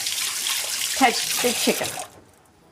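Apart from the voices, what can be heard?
water running from a tap while washing hands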